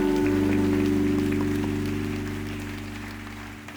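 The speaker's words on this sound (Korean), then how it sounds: "하나님께 영광의 박수 올리겠습니다." A congregation at a prayer meeting claps in unison, a soft, rain-like patter under a sustained keyboard chord that gradually fades away.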